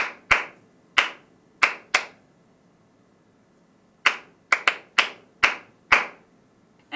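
A pair of hands claps out a rhythm, loud and close: four sharp claps in uneven spacing, a pause of about two seconds, then a quicker burst of six, with nothing else audible.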